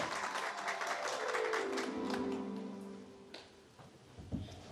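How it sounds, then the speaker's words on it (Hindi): An audience claps continuously at a stage event as a chief guest arrives, dense applause that fades gradually, leaving a few scattered claps near the end. "तो आप सबकी भरपूर तालियों में मेहमान खुसूसी साहब जनाब गुलाम अहमद साहब तशरीफ ला रहे हैं।"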